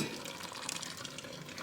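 Cheese sauce heating in a pot on the stove gives a steady, soft hiss and fine crackle, faint and continuous with no voices.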